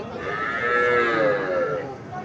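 A Sahiwal breed calf at a cattle sale moos in one long, drawn-out call rising and falling over about two seconds, close and loud, without any speech.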